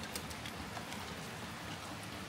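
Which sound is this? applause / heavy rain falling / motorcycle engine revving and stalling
heavy rain falling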